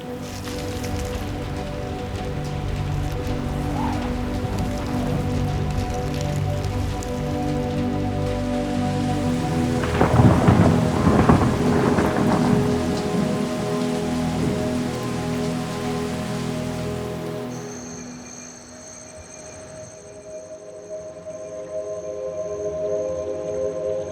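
Steady rain patters on a surface throughout, with a denser splashing stretch in the middle before it settles back to a softer hiss.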